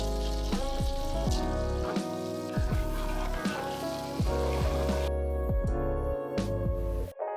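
Butter and freshly cut garlic fry in a pan for a pasta sauce: a continuous close sizzle with regular scraping strokes of a utensil stirring through it.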